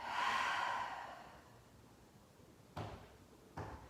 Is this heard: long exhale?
yes